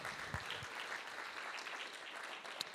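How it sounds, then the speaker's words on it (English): Symposium audience gives a round of applause, a soft, even spread of clapping heard from a distance with a couple of sharper claps standing out. "One more applause."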